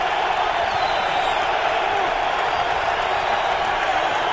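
A football stadium crowd at an NFL game between the Browns and the Patriots roars steadily, loud and sustained cheering filling the space without pause.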